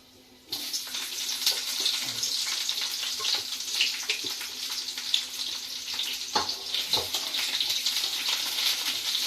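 Chopped onion tipped into hot oil with black cumin, dried chili and garlic bursts into a loud, steady sizzle after a short quiet moment, with scattered crackles running on throughout.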